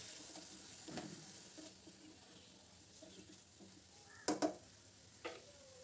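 Tomato fries in a pan with salt for a rui fish curry with broccoli, a soft low sizzle under a few stirring scrapes and one or two brief clinks of a utensil.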